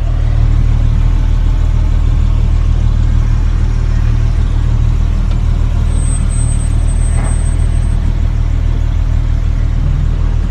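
A 1972 Volvo 164 E idles while gently reversing, its engine a loud, steady low hum with a brief squeak partway through and no voices.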